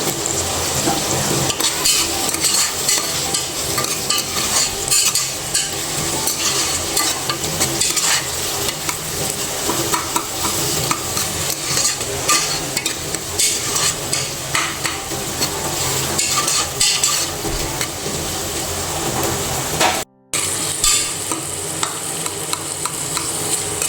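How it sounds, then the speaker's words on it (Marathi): Two green chilies hit hot oil in a pan while cooking a homemade khichdi, giving a steady, loud sizzle with frequent stirring and a few utensil scrapes, no voices, running almost without pause. "त्याला चांगला कलर येईपर्यंत व्यवस्थित फ्राय करून घेते त्याच्यामध्ये दोन मिरच्या ॲड करते"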